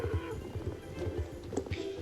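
Hooves clip-clop in a steady rhythm from a horse in the Star Stable Online video game, with a short whinny near the end, all under a low hum of game background sound.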